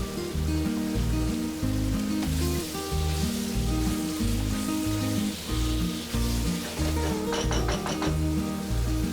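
Mutton for a South Indian ghee roast being stirred in a pan with homemade masala powder, a low sizzle under steady scraping and occasional clinks of a utensil against the pan.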